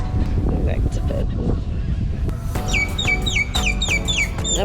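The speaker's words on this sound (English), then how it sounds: "That bird is so loud." A grackle calls loudly and close by under palm trees in Mexico, giving a run of sharp, metallic, squeaky whistles in rapid repeated phrases, while people talk beneath it.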